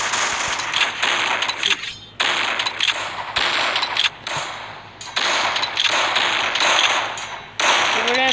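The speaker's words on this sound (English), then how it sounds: "I got my machine gun." Rapid automatic gunfire from a machine gun in a Roblox game, loud bursts of fast repeated shots broken by short pauses, with faint talk underneath.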